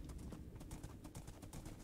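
Horse hooves clop in a quick, steady rhythm while a horse is ridden in the Minecraft video game, quiet and even from start to finish, with no talk.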